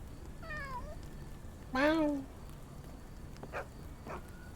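A cat in the video game Sherlock Holmes: The Awakened meows twice in descending, synthetic-sounding cries over a steady background hum, followed by a couple of faint clicks.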